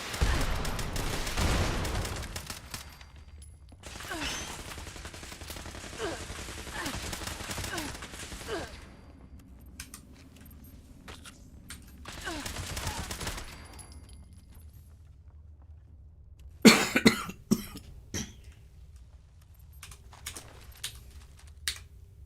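Gatling plasma guns in Fallout 76 fire in long sustained bursts separated by pauses, followed by a few sharp louder blasts near the end, with a voice speaking occasionally between the volleys.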